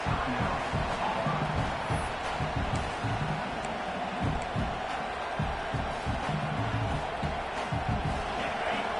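A roaring stadium crowd at an LSU versus Auburn college football game, a steady dense wall of cheering and whooping during a fourth-down defensive stand, with a commentator talking over it.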